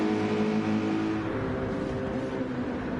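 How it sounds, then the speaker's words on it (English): A race car engine on a racing team's car revs in a steady, throaty drone with layered harmonic hum, loud and close, with no talk over it. "Just hear that engine purr."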